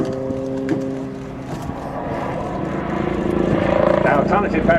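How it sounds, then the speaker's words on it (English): A battlefield helicopter hangs in a stall turn at an air display, its rotor and engine droning steadily from a distance and swelling toward the end while a commentator talks over it. "the entire helicopter, and this is not a lightweight helicopter, it is a battlefield helicopter, just hanging there in that hanging stall turn"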